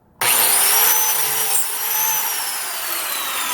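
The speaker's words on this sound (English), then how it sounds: "Since that cut was set for a number 0 biscuit, I'm going to go and do the same cut on the side of this" DeWalt biscuit plate joiner spins up abruptly and cuts into a large wood block, a loud, sustained high whine with a slight drop in pitch as the blade bites, close and alone.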